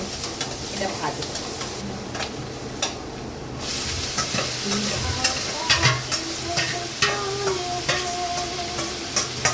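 Sliced onion with turmeric powder frying in a pan in a village kitchen, a continuous sizzle with repeated scraping and stirring clicks from a spatula, moderately loud and close.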